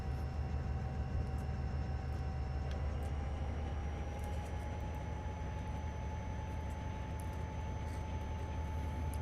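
A heavy CSX freight train with its locomotives up front rolling along the Amtrak high-speed line from New Haven in Train Simulator, a constant low rumbling drone with a steady tonal whine and faint clanks, evenly loud throughout.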